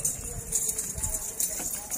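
Goats of Rajanpuri, Gulabi and Beetle breeds being walked around at a goat sale, their hooves clopping in an uneven patter over a steady, noisy background.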